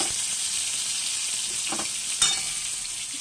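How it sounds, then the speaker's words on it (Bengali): Eggplant slices fry in hot oil with a continuous close sizzle, broken by a couple of brief utensil clicks. "বেগুন ভাজাটা বসালাম"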